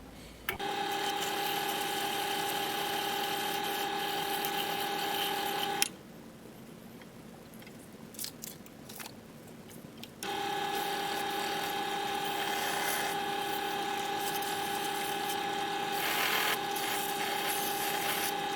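A rotary drill whines steadily while sanding a recycled plastic ring, stops for a few seconds of quiet scraping and handling, then starts up again and runs on.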